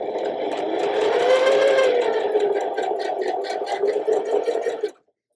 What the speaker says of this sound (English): I'm going to sew it on with the seams facing me